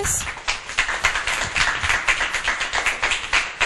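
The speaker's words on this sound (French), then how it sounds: "On applaudit bien fort Lourdes" Clapping from a small audience for a child who has just presented a book, steady brisk applause throughout, fairly close and moderately loud.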